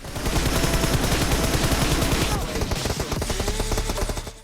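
Rapid automatic gunfire in the video game BGMI, dense bursts of close, loud shots rattling for several seconds before thinning into scattered shots.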